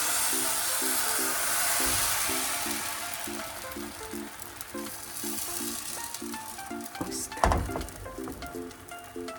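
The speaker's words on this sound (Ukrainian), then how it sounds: "І відправляємо смажитись перший малинець." Thin milk crepe batter sizzles steadily in a hot pan, a constant hiss with a soft clatter of utensils near the end.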